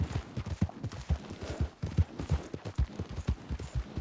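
In Red Dead Redemption 2, a horse's hooves strike the ground in a rapid, rhythmic clip-clop at a gallop. Loud and close, the hoofbeats continue steadily throughout, with no voices over them.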